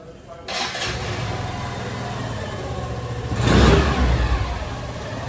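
A 2023 Hero Zoom 110cc scooter engine catches and settles into a buzzing idle, then swells with a quick rev before easing back to a steady putter.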